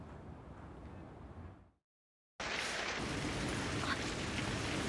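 Steady rain hiss in a North Korean drama scene, a broad dense wash that fades out briefly to silence, then returns louder and fuller, close and continuous with no voices.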